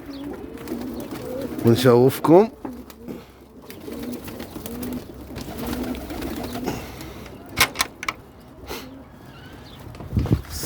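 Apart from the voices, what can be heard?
pigeons cooing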